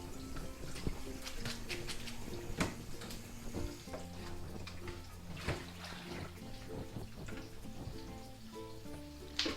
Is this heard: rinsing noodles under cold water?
yes